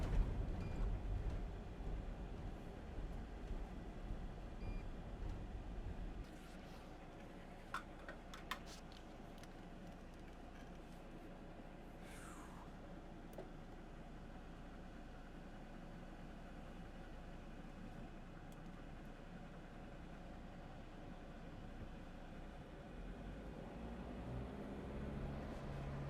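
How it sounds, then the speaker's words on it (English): A diesel van engine runs steadily with a low, throbbing rumble that drops slightly in level after a few seconds. Faint ticks and clicks sit on top. "I love the sound of diesel."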